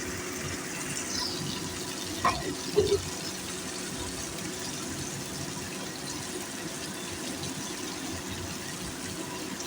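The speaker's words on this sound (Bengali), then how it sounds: "এখন এই মশলাটাকে আমি জলে গুলিয়ে নেব।" Water trickles and pours as a spice paste is stirred into it for a vegetarian elephant foot yam curry, a soft, steady liquid wash with a few brief clinks near the start, no talking.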